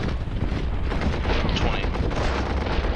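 Artillery barrage from the World War I strategy game Commander: The Great War, a dense, continuous rumble of booming blasts and gunfire-like cracks that stays loud throughout.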